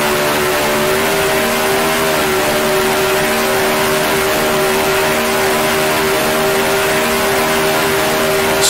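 A 1966 Formula One car in Grand Prix Legends runs flat out, its engine a loud, sustained high-pitched wail holding one steady note without a break.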